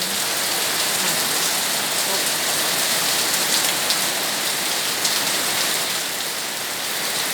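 Steady rain pours down, a dense continuous hiss of drops on surfaces, with a few louder spatters standing out.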